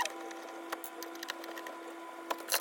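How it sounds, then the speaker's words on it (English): A screwdriver backs out the screws holding a protective panel on a boat at anchor, giving sparse small clicks and scrapes over a steady electrical hum, fairly close and quiet. "I have 2 screws holding in this panel. And I'm just going to unscrew"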